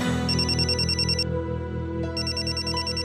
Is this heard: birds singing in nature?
no